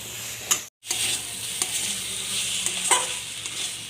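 Spice paste and taro stolons are stirred and fried in a pan, giving a soft steady sizzle broken by a few scraping stirs of the spoon, close up.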